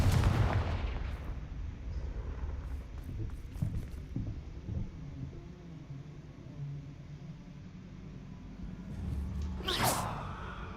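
A Confringo fire spell in Hogwarts Legacy, a deep rumbling blast at the start that fades into low game ambience, then a sharp whooshing burst near the end, moderately loud with no talk.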